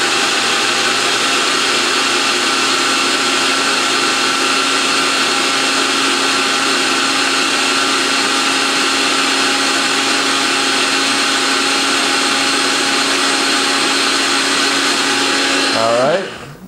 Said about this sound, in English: Blending it up perfectly, you can see it. Higher speed. And let's get this nice and frothy.